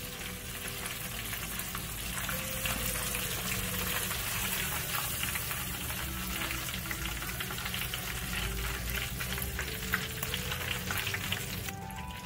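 Crispy chicken pieces deep-fry in hot oil with a loud, dense, continuous crackle and sizzle that holds steady for several seconds up close, with no talk over it.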